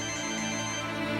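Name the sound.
phone ringtone ringing for an incoming call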